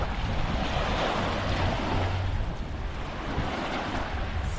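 Surf rolls onto the sand at a Moalboal beach resort in the afternoon, a continuous broadband wash of waves with some wind rumble, steady and fairly loud, no voices.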